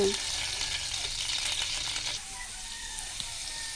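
Garlic and onion frying in a hot pan with leftover rice nearby: a bright, crackling sizzle close up, a little louder at first, then settling to a quieter, steady spitting hiss with a few soft stirring scrapes.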